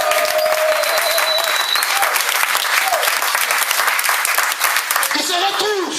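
A church congregation applauds during a Nativity celebration, with dense, loud, sustained clapping that fills the space and carries on steadily for several seconds, with a voice heard faintly within it.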